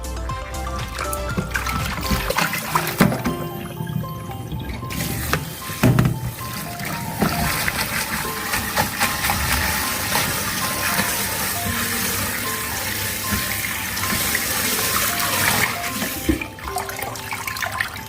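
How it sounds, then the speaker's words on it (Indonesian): Herbal roots for a kidney-cleansing brew are rinsed under steady running water, a loud continuous splashing and gushing that stays close throughout. "Ini akarnya bagus banget, ini akarnya, makanya jadi ini kita cuci bersih lah, takut ada pasirnya di dalamnya ini."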